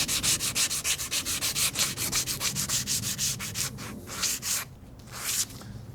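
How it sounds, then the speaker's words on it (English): Sandpaper rubbed by hand over a metal bench vise weathered by months of rain, a loud, steady rhythmic scrubbing of close, even back-and-forth strokes that slows and thins out toward the end. "And of course, just a little bit of sandpaper."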